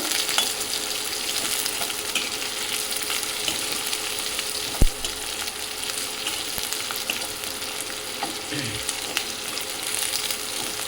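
Onions frying in a pan over high gas flame, a continuous loud sizzle with occasional stirring scrapes and a sharp knock midway, no talk.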